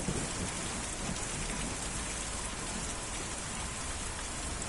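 Steady rain falls in the video game Kentucky Route Zero, a dense, even hiss that fills the whole stretch without a break, with no voices over it.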